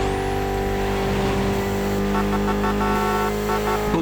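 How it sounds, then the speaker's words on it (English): A Mitsubishi inline four-cylinder making about 280 horsepower revs loud and steady in The Crew Motorfest racing game, a sustained buzzing engine drone with a shifting pitch, no voices over it. "Mitsubishi gave us a nice inline 4-cylinder with already 280 horsepower."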